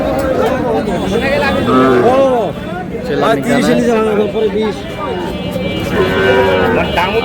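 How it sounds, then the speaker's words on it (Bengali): A Sahiwal bull moos repeatedly at a busy cattle market, its loud, drawn-out calls rising and falling close by over steady crowd chatter and people talking nearby. "40-এর উপরে শাহিওয়ালের ষাঁড়"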